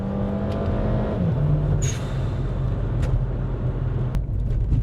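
A Toyota Caldina GT-T, an all-wheel-drive car with a manual gear mode, accelerates hard. Its engine drone rises steadily and loudly from inside the cabin, with a pitch shift as a gear changes.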